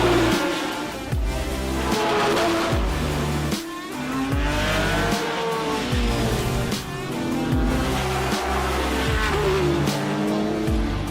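A large field of GT race cars in the iRacing sim starts at Sebring, a dense, loud roar of revving engines rising and falling through gear shifts, with tire squeal mixed in and no voices.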